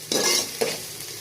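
Onions sizzle in a pan of hot oil as they fry, with two quick stirring scrapes close by, loud and brief, and no voices.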